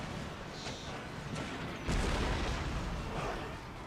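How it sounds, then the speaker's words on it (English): Booming cannon shots from the video game Imperial Destroyer, set in a Sweden campaign. A heavy blast lands midway through a dense, rumbling wash of battle noise, and no one speaks. "Cannon shots is gonna do a heavy amount of damage"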